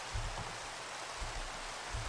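Minecraft rain falls as a steady, soft hiss of noise with faint low patters, even and unbroken throughout.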